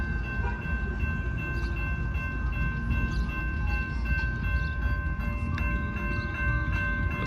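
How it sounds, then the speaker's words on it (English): A train rumbles past a railroad crossing nearby with a steady heavy roar and rattle, and a sustained horn tone hums throughout. "Oh, there is another train coming."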